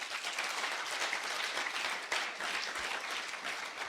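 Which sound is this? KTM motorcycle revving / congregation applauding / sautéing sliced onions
congregation applauding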